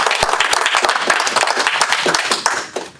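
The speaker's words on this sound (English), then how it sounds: "I would advise a round of applause." A room of people clapping for airport staff, a brisk round of applause with distinct close claps that thins out and fades toward the end.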